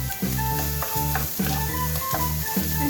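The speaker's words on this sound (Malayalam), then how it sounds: "നെക്സ്റ്റ് ഇതിലേക്ക് സവാള ഇട്ടു" Finely chopped onions sauté in a hot pan with green chillies for egg bhurji, giving a steady sizzle with a rhythmic stirring pattern and no talking.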